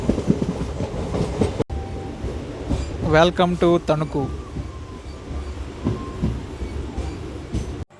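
A MEMU express train runs into Tanuku station, its rumble and rhythmic wheel clatter continuing steadily under someone talking, with a brief tonal horn-like burst partway through.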